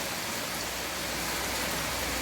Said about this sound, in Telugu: వర్షం బాగా వస్తుందండి